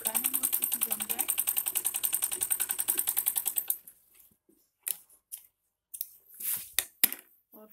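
A sewing machine stitches cloth for a kurti in a rapid, even mechanical rhythm for several seconds, then stops, followed by soft handling and rustling of the fabric close by.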